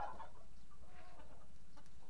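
Chickens cluck faintly in an outdoor setting in Surin, Thailand, a few soft, scattered calls against a steady low background hum with no voices.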